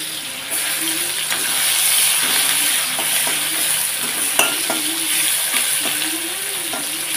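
Chopped onion with whole cumin and bay leaf frying in oil, a steady bright sizzle with occasional stirring scrapes and clinks of a utensil against the pan, no talking.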